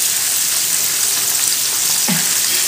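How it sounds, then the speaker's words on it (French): Flour-dusted tilapia frying in hot oil, a steady close, loud sizzle running throughout with a brief knock near the end. "Les poissons sont en train de bien frire ici."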